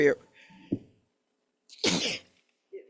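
A single sharp sneeze bursts out at close range, preceded by a short intake of breath, with a faint voice at the edges.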